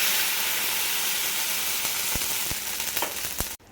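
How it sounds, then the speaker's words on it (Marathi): A cup of water poured into a pan of fried green chillies for dhokla, setting off a loud, broad sizzle and hiss that runs steadily with a few sharp crackles before cutting off abruptly near the end. "आता यामध्ये मी 1 वाटी पाणी घालून घेते"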